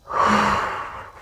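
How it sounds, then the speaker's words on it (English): A single deep, breathy inhale during a yoga routine, close and airy, rising quickly then fading gradually, with no talk. "Inhale deeply. Exhale."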